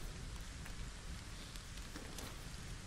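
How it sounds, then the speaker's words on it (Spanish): Steady, even rain hisses and patters across the whole stretch in the video game Lego Fortnite, a faint wash of broadband noise with scattered drop ticks and no voices. "No se puede poner por la lluvia."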